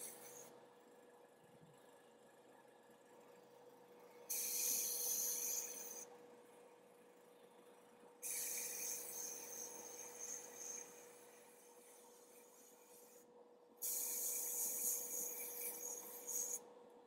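An airbrush sprays base coat paint onto miniatures in three bursts of bright, airy hiss, each lasting a couple of seconds, separated by quieter pauses over a faint steady hum.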